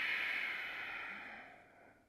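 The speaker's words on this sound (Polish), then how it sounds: "Piąty wydech do końca." A single long, breathy exhale close to the microphone, fading gradually to quiet.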